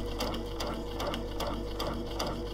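A sewing machine stitches around the edge of a circle on a quilt-as-you-go daisy block, running in a close, steady mechanical whir with rapid regular needle clatter throughout.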